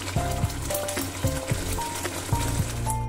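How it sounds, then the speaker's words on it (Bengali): Spice masala for a duck egg curry sizzles in oil as it is stirred, a steady hiss broken by regular scraping strokes of the spoon against the pan. "এবারে যতক্ষণ না তেল ছাড়ে মশলাটা থেকে আমি এরকমভাবে কষতে থাকবো।"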